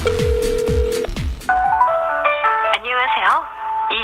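A telephone line tone after dialing a movie-screen phone number: a few low tones, then ringing and electronic melody tones in bursts, close and clear without speech.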